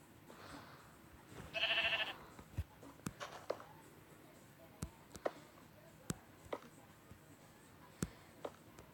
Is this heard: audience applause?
no